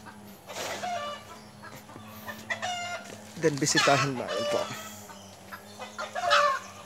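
Chickens clucking and a rooster crowing nearby, with a person speaking briefly amid the birds.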